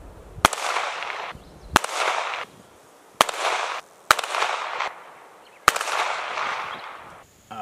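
Five sharp shots from an STI Staccato P DUO 9mm pistol firing 124 grain Gold Dot rounds at a 25-yard range are spaced about a second apart. Each loud crack is followed by a brief echo.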